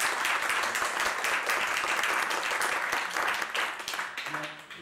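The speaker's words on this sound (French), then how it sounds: "Je pense qu'on peut applaudir nos deux panélistes." Audience applause for two panelists at a conference event, a dense, sustained round of clapping filling the room that gradually thins and fades out at the end.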